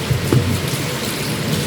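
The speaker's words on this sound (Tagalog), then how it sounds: "Umuulan na naman." Rain falls outdoors beside a house and yard, making a steady, close broadband hiss with a few soft low thumps of drops and no voices.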